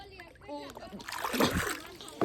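Water splashes and sloshes as a container is filled from a river while washing clothes outdoors, with a voice talking at first and the splashing growing louder toward the end.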